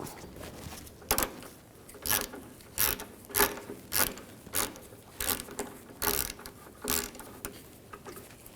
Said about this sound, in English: Now using a 13mm socket, we're going to take the horn bracket off.